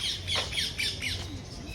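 A parrot squawks several times in quick succession at a zoo in Surat, harsh and close, with short pauses between calls and no talking.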